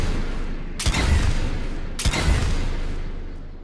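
Two heavy hip-fired gunshots ring out in Mass Effect 3, each a loud sharp blast with a long decaying tail, roughly a second apart over game ambience.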